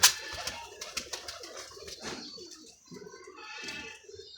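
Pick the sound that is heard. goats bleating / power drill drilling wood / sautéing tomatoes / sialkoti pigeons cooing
sialkoti pigeons cooing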